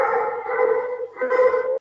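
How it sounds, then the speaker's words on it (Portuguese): Excited dogs howling and whining in a long continuous drawn-out cry, loud and close, with a brief dip before rising again, heard alone without talk. "Deixa eu só falar para os meus filhos cuidarem dos cachorros aqui, para eles pararem de ser animadinhos."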